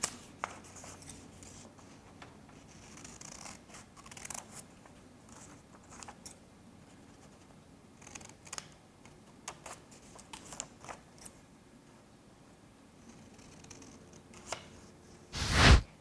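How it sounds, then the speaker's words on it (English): Scissors snip through paper while a paper helicopter model is cut out along dashed lines, giving quiet, irregular clipping sounds with small rustles and a louder handling noise at the very end. "The next step is to cut along the dashed lines."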